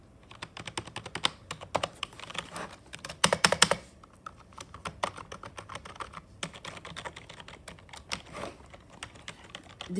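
A new full-size computer keyboard is typed on in close, rapid bursts of clacking keystrokes, with a short denser flurry in the middle and no talking.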